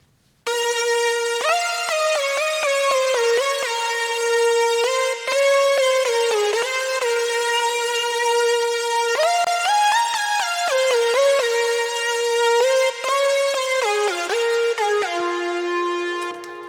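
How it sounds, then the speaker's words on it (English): A bright, buzzy synth lead from a Serum patch called Thick Lead plays a continuous melodic line with gliding pitch changes and small grace notes, loud and upfront with no other sounds. "it's just a serum patch called Thick Lead that I made a long time ago"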